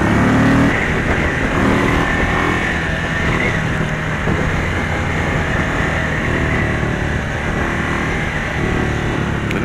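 A 2023 Indian Sport Chief motorcycle accelerates from a stop at traffic lights, its engine note rising in a loud, steady roar through the gears, close up, with no talk.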